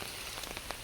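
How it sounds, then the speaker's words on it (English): Rain falls outdoors in a brief, faint, steady patter with a few soft drops standing out, heard alone with no voices. "it is raining currently, hinted by the umbrella"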